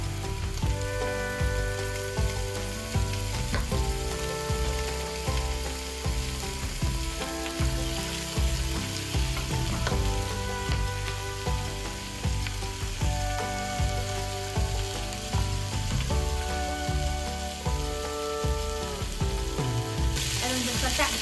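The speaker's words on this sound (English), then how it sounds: "First, we're going to brown our meat." Stew meat browns in hot olive oil in a pot, a loud, close, continuous sizzle and crackle with occasional stirring scrapes.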